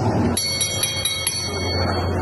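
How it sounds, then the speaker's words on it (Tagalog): A bright ringing bell at a professional boxing fight's ringside, struck in a rapid run of about six clangs that then ring out and fade over a hall hum. "And as the bell rings"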